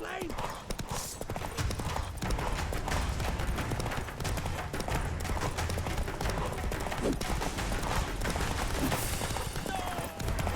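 Roach, Geralt's horse in The Witcher 3, gallops in a steady clip-clop of hooves inside a busy game mix of music and effects, with a voice briefly calling out over the pounding.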